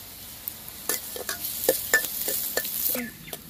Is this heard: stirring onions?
yes